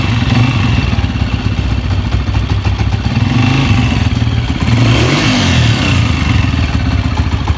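A restored Honda CG 125 motorcycle engine runs loud and close, a steady throbbing rumble with clattering mechanical noise and a rise in revs partway through, with no talk over it.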